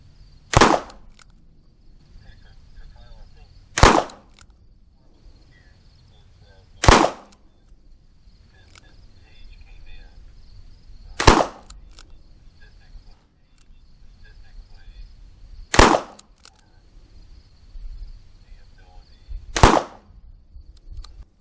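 Six sharp, loud shots from a Smith & Wesson 5-screw K22 Masterpiece revolver fired at a target, spaced a few seconds apart with quiet pauses and faint background noise between them.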